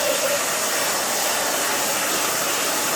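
A hair dryer roars steadily at close range as hair is dried during a haircut, a loud, unbroken airy whoosh with no voices over it.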